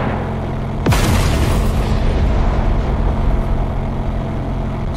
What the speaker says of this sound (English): Stun grenades.